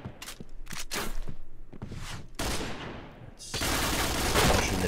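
Gunfire from the Point Blank shooter game in a tournament match: a run of sharp separate shots and short bursts, a brief lull, then a sustained loud volley of rapid fire near the end.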